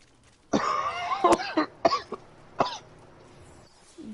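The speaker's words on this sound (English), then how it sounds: "COVID really gave you a bad cough" A person coughs during a Dauntless gaming session, a cluster of several harsh coughs and throat-clearing bursts up close, then a couple more spaced coughs before quiet.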